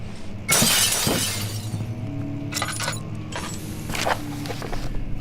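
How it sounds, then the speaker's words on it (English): Glass smashed with a book in Amnesia: The Dark Descent, a sharp loud shatter followed by scattered tinkling shards falling over a low ambient drone, with a few later clinks. "I'm gonna break that glass with a book."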